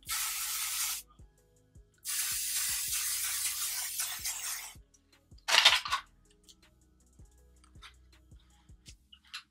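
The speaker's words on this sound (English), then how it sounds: "I need to like spray all my hair in." Hairspray is sprayed onto short hair in long, close hissing bursts of a few seconds each, followed by a shorter spritz and scattered small clicks and handling sounds.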